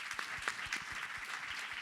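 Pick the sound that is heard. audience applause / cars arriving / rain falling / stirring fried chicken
audience applause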